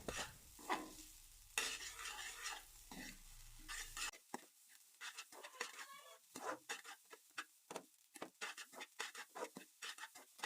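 Chicken fried rice with soy sauce is stirred in a pan: a long run of scraping, clattering spatula strokes in a quick, uneven rhythm over a soft sizzle, close and fairly loud, with no talking.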